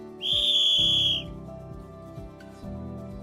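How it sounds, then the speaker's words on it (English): A sharp, loud finger whistle on one high steady pitch, held for about a second, then a quieter background with soft knocking and hum. "Mama put her fingers to her mouth and whistled really"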